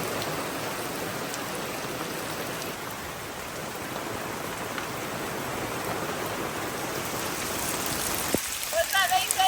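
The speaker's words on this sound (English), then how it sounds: "It might rain some more." Steady rain hisses down across a renovation site at a Portugal homestead, a dense, even wash of drops that continues throughout, with a faint voice near the end.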